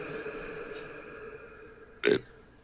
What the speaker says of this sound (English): I have one last burp in me.